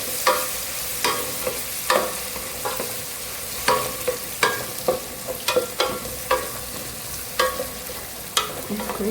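Crushed ginger and garlic frying in a pan, a soft continuous sizzle broken by repeated sharp scraping clicks of a spoon stirring at an uneven rhythm.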